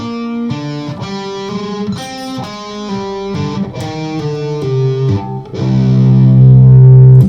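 A loud, heavily distorted electric guitar in drop C tuning plays a heavy stepping riff of separate notes, ending on a sustained, ringing chord.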